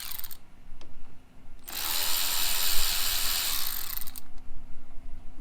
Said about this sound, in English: If you have one of these hose clamps, you can use a screwdriver or an 8mm ratchet